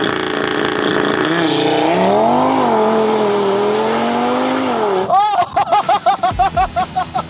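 A ZIL 2.5-litre six-cylinder car rated at 545 hp roars loudly and steadily for several seconds, then breaks into sharp, rhythmic revving bursts as it launches hard, the pitch rising and falling with each pull.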